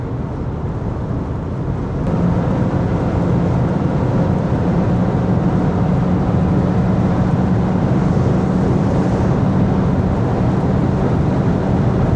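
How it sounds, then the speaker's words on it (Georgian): Continuous rushing headwind noise buffeting a moving Volkswagen Jetta, a steady broadband roar with no voices. "ახლა წინიდან გვიბერავს ქარი და ოდნავ რა თქმა უნდა შრიალის ხმა ახლა უკვე შემოვიდა."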